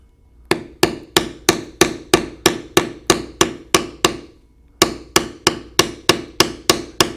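A mallet taps a beveling tool on leather while carving a standing moose design, in a steady sequence of about twenty sharp, evenly spaced knocks, with one short pause partway, close and clear with no speech.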